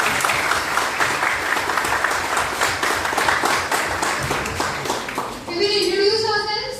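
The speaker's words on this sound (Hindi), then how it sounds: "तालियां बजाओ जब खुद के लिए." Medical college students applauding together at a welcome session, a dense burst of clapping from a room full of people that fades toward the end as a voice begins speaking.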